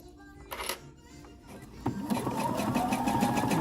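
A sewing machine stitches bra fabric, starting with a few short bursts and then settling into a steady, close, rapid mechanical chatter, with faint talk underneath.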